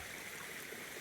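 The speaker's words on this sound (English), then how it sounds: "have stopped here by this creek, which feeds out into the river out there" Clear creek water running steadily beside a hiking trail in the wilderness, a continuous soft rushing with a bright hiss, close by and alone.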